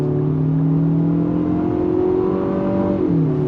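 A 2025 Infiniti QX60 Black Edition with a turbocharged engine and 9-speed transmission accelerates under throttle, a steady rising buzzy engine drone heard from inside the cabin, its pitch climbing then dropping at a gear shift.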